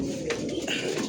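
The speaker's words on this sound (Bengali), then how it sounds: "কবুতরগুলা সব এক পাট্টা কবুতর" Pigeons coo softly in a loft, a brief low murmuring burst against a faint background hum.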